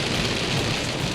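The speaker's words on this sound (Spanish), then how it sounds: "de repente una lluvia así súper estruendosa, despampanante" Heavy, thunderous rain pours down steadily in Florida, a loud, dense and continuous hiss of drops hammering surfaces with a low rumbling undertone and no pauses.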